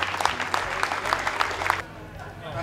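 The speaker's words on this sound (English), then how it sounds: "Ladies and gentlemen, give a round of applause if you would." An audience claps at a bass fishing tournament award ceremony, with dense applause lasting under two seconds before it stops abruptly into quiet room tone.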